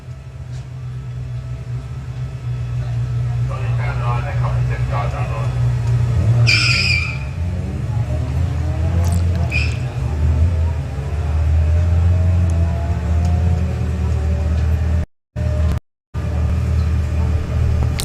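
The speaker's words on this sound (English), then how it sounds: "Love hearing the turbo coming up on boost there as he's doing his burnout." A turbocharged Volvo drag car does a burnout on a drag strip, its loud engine roaring steadily with screeching tyres and a rising turbo whine as it comes on boost, then briefly cutting out near the end.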